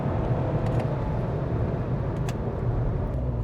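A 115 bhp sports car with paddle-shift gears gives a steady, low engine drone, heard from close by, with no clear separate downshift blips.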